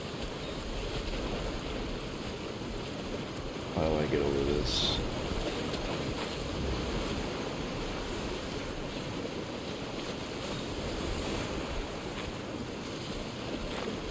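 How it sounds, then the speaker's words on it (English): Flowing water in the video game Death Stranding 2 makes a steady, rushing wash that runs the whole time, with a voice speaking briefly over it. "Alright, we got water right here."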